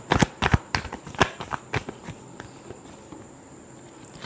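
A deck of cards is shuffled with quick, crisp riffling snaps, a burst of sharp flicks that thins out into fainter, scattered ticks, close and alone in a quiet room.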